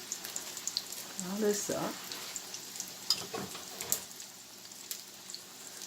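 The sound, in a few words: cod croquette cakes frying in a pan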